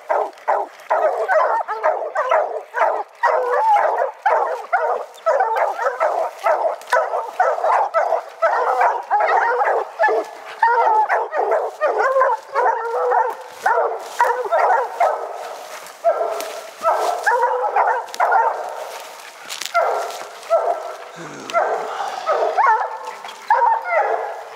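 Many dogs bark and yip continuously, a dense overlapping chorus close by, with occasional whimpers.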